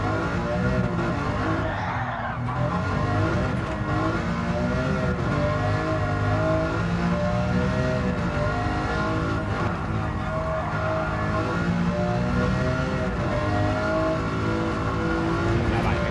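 A race car in the Gran Turismo 7 video game drives continuously, its engine revving up and down through gears with occasional tire squeal, loud and steady throughout, while someone talks over it at times.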